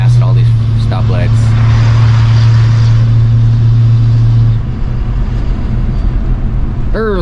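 A car rolls along back roads early in the morning, its engine a steady low hum that drops off partway through, with a voice speaking briefly over it near the start and end.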